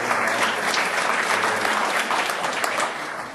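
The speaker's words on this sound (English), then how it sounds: "Let's give Pat a round of applause." An audience at a special education summit applauds, dense steady clapping from a crowd that holds for about three seconds before tapering slightly at the end.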